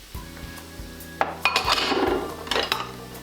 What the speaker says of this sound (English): Next, what you want to do is you want to grab a bowl.